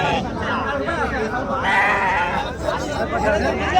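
Goats bleat repeatedly amid a busy crowd at the Angallu sheep and goat market, their calls mixing with steady chatter and market babble close by.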